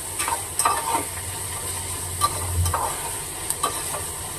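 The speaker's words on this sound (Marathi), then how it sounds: "कांदा ना छान असा लालसर मोठ्या फ्लेमवर" Chopped onions sizzle steadily on a high flame for egg bhurji, with a spatula scraping the pan in several sharp strokes over the continuous frying hiss, close and fairly loud, no talking.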